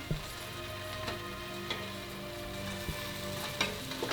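An onion roux for soup cooks in a pot, a soft steady sizzle with occasional light stirring clicks, close and fairly quiet with no voice.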